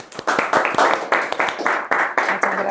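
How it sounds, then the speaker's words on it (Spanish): A guest arriving at a Spanish-language entrepreneurship talk show is greeted with a short burst of lively applause, many hands clapping close together and briskly. "La recibimos con un fuerte aplauso."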